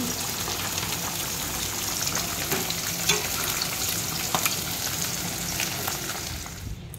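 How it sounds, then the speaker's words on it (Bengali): Malabar spinach (pui shak) cooking in a pan in a home kitchen gives a steady, continuous sizzle and bubbling hiss with faint stirring ticks, close and even throughout. "এইদিকে পুঁই শাক রান্না হচ্ছে, হয়ে এসছে"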